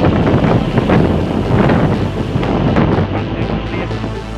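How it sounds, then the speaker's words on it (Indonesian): Large, rough sea waves pound the Indonesian coast during a tidal flood surge, a loud continuous roar and rush with heavy wind buffeting the microphone and no talk. "ombaknya luar biasa."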